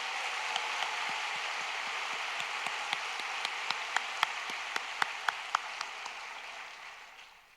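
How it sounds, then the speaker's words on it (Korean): Congregation applause during an overnight church prayer service, a steady crowd wash of clapping with sharp individual claps standing out, moderately loud, easing off toward the end. "영광과 존귀와 찬양의 박수를 올려드리겠습니다"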